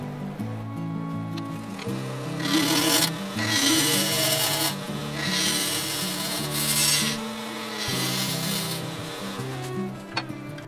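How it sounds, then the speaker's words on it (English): Bowl gouge taking a pull cut to level the face of a wooden bowl blank spinning on a lathe: steady close rubbing, scraping texture over a constant motor hum, swelling in harsher bursts as the tool passes across the surface. "I'm going to be leveling off this surface with the bowl gouge"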